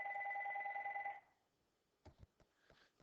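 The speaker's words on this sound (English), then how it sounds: "sorry about that, my phone rang" A mobile phone rings with a steady electronic two-tone ring for about a second, then stops, followed by a few faint handling knocks in a quiet room.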